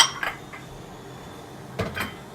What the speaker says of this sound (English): So we're going to dump our potatoes into the boiling water and our garlic.